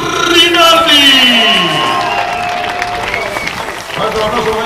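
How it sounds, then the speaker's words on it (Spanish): A crowd applauds and cheers for motorcycle racers on the podium at Jerez, with clapping and whoops close and sustained while an announcer talks over it. "Fuerte el aplauso para ellos"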